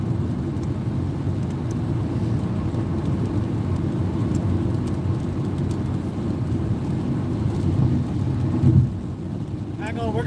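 Heavy rain and gusting wind buffet a van driving through a Wyoming storm with hail and hydroplaning, a loud continuous roar of road, wind and water drumming the body, with no pause throughout.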